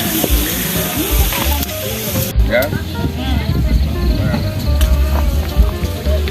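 Steady sizzling of pork on a hot Thai tabletop grill pan, continuous and close, with people chatting and moving around over it at a campsite.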